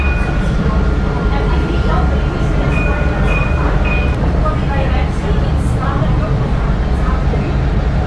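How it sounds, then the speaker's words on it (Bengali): Tram on Palm Jumeirah in Dubai heard from inside as it runs, a loud steady rumble with brief high squeals and some voices talking beneath. "ট্রামটা এদিক দিয়ে ঘুরবে।"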